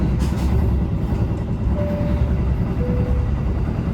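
Indonesian train rumbling along rails from inside a carriage, a steady low roar with faint rattles and brief squeaks, no talking.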